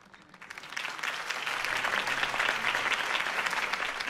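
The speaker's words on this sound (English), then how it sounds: "If only Mr. Wayne, my campaign's largest backer, could have heard that applause" Applause from a crowd in the video game Batman: The Telltale Series, swelling from a quiet start into steady, dense clapping that holds for several seconds.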